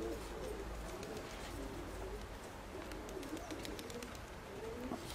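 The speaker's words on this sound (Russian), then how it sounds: "Я только нижних голубей, верхних пока снять не могу." Pigeons coo softly in repeated low, rolling calls against a steady outdoor background, fairly distant and faint, with no talking.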